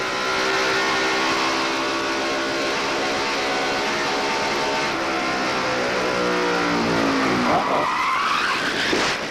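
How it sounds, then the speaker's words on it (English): Jeff Gordon's NASCAR Winston Cup race car at Charlotte Motor Speedway's 1993 All Star Race roars at full throttle from the in-car camera, a loud sustained engine drone with tire skidding and a sharp pitch shift near the end. "Let's have a look from in-car, from Jeff Gordon's car"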